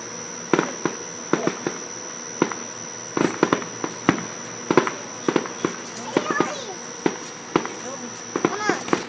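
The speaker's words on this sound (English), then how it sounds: "Here come the big fireworks." Big fireworks go off outdoors in a rapid series of sharp, distant bangs and crackles, with people talking over them and a steady insect hum behind.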